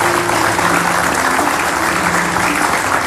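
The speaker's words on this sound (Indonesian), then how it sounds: "kasih tepuk tangan dulu" A television talk-show studio audience applauds, a dense and steady burst of close clapping that holds at full loudness throughout.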